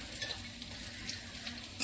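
Potatoes frying in a pan with turmeric and salt give a steady, close sizzle with light stirring scrapes, no voices.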